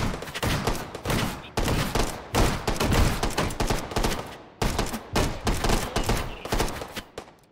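Gunfire in the VR game Hot Dogs, Horseshoes & Hand Grenades: loud, close rapid-fire bursts of shots in several clusters separated by brief pauses, with dense automatic volleys throughout.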